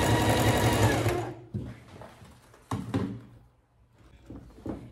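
A sewing machine stitches bias binding onto a cushion cover in a quick, loud, close burst of rapid mechanical whirring that stops after about a second, followed by soft fabric handling and light knocks.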